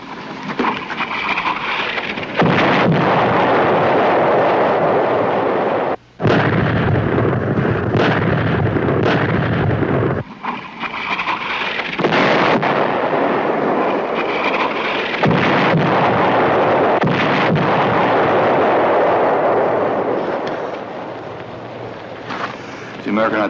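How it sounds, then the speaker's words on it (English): American artillery barrage with shells exploding in a 1963 World War II war drama, a sustained loud roar of blasts and crashing debris filling the scene, with brief breaks between bursts. "The American artillery. Starting its barrage, we better leave now."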